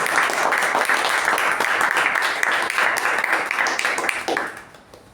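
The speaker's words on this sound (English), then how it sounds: "Let's give her a special round of applause." Steady applause from an audience, many hands clapping densely and loudly, then tapering off in the last second.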